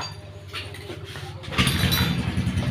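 A carbureted Honda Beat scooter fitted with a Shogun CDI starts up close by, turning over briefly before settling into a loud, steady idle.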